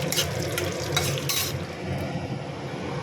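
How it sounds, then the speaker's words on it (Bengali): Chili flakes and cumin seeds sizzle in mustard oil in a pan for aloo paratha: a steady, close frying hiss with a few bright stirring scrapes early on, then continuous sizzling alone. "লঙ্কা আর জিরে ভাজা ভাজা হয়ে গেছে"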